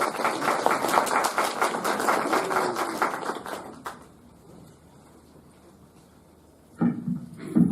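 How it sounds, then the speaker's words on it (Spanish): Audience applause greeting Dr. Elvia Barrios Alvarado, a Supreme Court justice, at a formal event in Cusco; dense, fairly loud clapping for about four seconds, then a quiet room before a voice begins speaking. "Recibámonos con fuertes aplausos a la doctora Elvia Barrios Alvarado."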